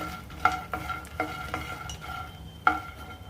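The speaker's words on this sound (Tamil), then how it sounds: "தாமரை விதைகளை நல்லா ரோஸ்ட் பண்ணி எடுத்துக்கலாம்" Lotus seeds (makhana) roasting in a pan are stirred with a utensil, giving a soft dry rustle and light sizzle broken by several sharp clinks of metal against the pan.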